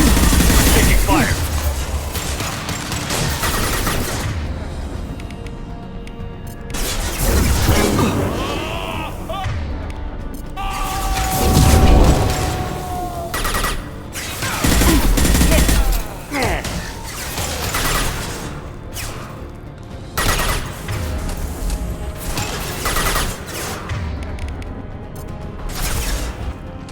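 Gunfire and crashing impacts in a sci-fi video game firefight against Collectors, with bursts of shots and mechanical clatter recurring loudly throughout, layered with game music and effects.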